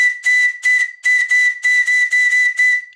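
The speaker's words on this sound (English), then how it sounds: "Let's have a quick recap on the old whistle." An old small steam whistle on a large model showman's engine sounds in a string of short, shrill hissing toots, about eight bursts in quick uneven rhythm, loud and close.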